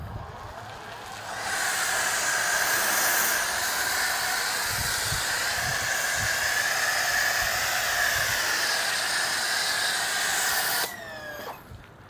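An EGO pressure washer spraying through a hose during a truck wash makes a steady, loud, hissing rush of high-pressure water that runs for about ten seconds before cutting off abruptly.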